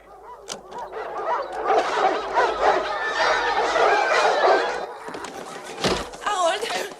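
Several dogs barking in an outdoor scene of a French family fantasy musical film, excited yaps and barks mixed with honking fowl-like cries and overlapping voices.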